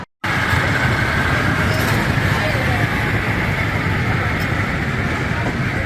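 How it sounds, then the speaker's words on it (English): Steady rumbling of a miniature amusement park railroad train, loud and continuous close by, with no breaks in the noise. "Hey look, a mini Tweetsie Railroad."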